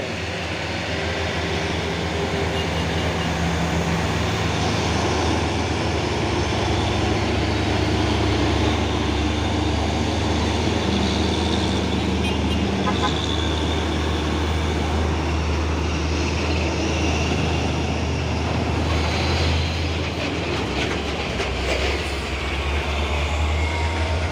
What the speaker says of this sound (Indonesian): Dan di belakang ada dua unit truk tangki CPO.